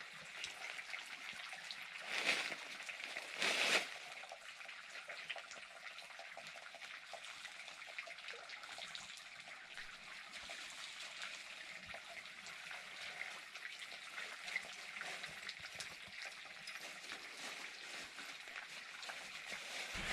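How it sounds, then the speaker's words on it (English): Water trickles steadily in a forest, a soft, faint, continuous wash of gentle splashing with a couple of brief louder bursts early on. "It's just trickling water."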